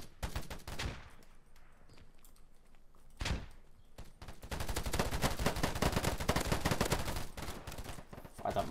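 Gunfire in the VR shooter video game Polygon: a couple of isolated sharp shots, then a dense burst of rapid automatic fire with crackling impacts, moderately loud and without talking.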